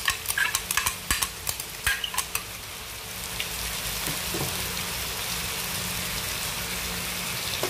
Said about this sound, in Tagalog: Lagay ko na ang tomato sauce.